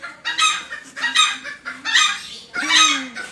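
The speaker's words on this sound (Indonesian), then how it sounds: "Ayam-ayam sudah demo guys" A group of chickens clucks and squawks nearby in four loud, ragged bursts, each a cluster of harsh, overlapping calls with no talking.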